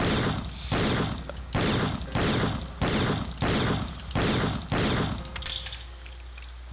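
Repeated gunshots fired at a large rock in the Killer 7 video game, about six loud evenly spaced bursts roughly every 0.9 seconds, each with a short decaying tail, ending in a quieter stretch.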